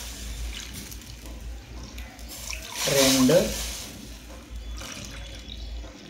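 A cup of watermelon juice is poured into a pot holding a little cow ghee while making rava kesari, a short liquid splash around the middle, with a voice counting over it.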